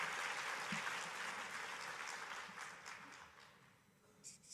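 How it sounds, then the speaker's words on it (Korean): A church congregation applauds at an afternoon worship service, a fairly faint wash of clapping that fades toward the end, with a few sharper sounds right at the close. "Palakpakan natin ang Panginoon."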